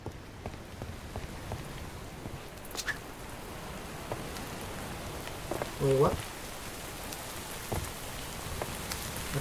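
Steady rain falling in Minecraft, a soft continuous patter of drops on surfaces throughout, with a player briefly speaking over it and a few faint game clicks.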